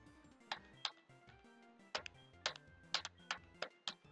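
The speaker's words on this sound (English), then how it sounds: "Probably can hear my mechanical keyboard" Keys clack on a mechanical keyboard, a sparse sequence of about a dozen distinct, sharp keystrokes at an uneven pace, faint and close against quiet background sound.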